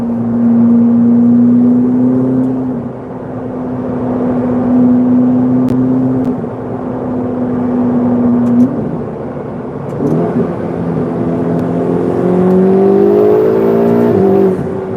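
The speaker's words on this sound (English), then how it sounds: "the turbo noises in here are insane" Loud, steady Ferrari 488 GTB engine drone in a tunnel that swells as it accelerates, turbo whine climbing in pitch near the end, resonant and enclosed.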